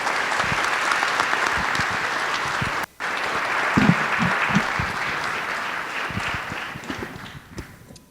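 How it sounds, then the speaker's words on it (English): Audience applause for the mayor at a State of the City event in Anacortes: loud, steady clapping with a brief cut near the middle, then tapering toward the end. "Let's please give a round of applause to Mayor Miller."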